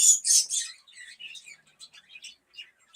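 Pet parakeets chirp and squawk loudly at close range, a burst of harsh shrill calls followed by quicker scattered high tweets, with no voices over them.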